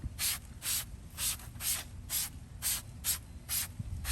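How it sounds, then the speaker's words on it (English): Wheel cleaner is sprayed as a mist onto car wheels in a steady rhythm of about eight short, sharp hissing bursts over a low background rumble. "we're gonna spray another quick mist"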